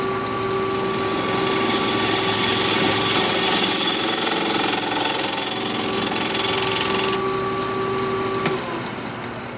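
A wood lathe spins at 1300 RPM while a tool flattens the bottom of a turned wooden piece, a loud, steady motor hum with a tonal whine and rough cutting noise that eases off near the end.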